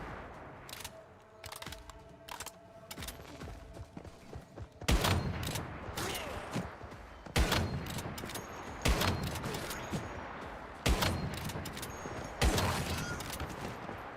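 Rapid bursts of gunfire from a shooter game set in Endless Dream, with a sniper rifle in use; a quieter clatter of distant shots gives way to several loud, sharp cracks repeating every second or two.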